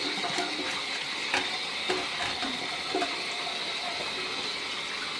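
Cold winter tap water rinsing over freshly cooked green beans in a kitchen, a steady broadband wash of splashing flow with a few brief clinks and thumps, fairly quiet and continuous without talk.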